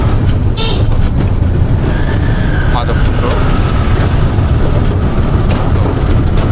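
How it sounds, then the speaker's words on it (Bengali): A CNG auto-rickshaw ride in the Sylhet countryside, with a loud, constant engine and road roar inside the cabin, a horn toot near the start, and a voice speaking briefly over the din. "সিএনজিতে প্রচুর আওয়াজ, আমরা যেতে থাকি।"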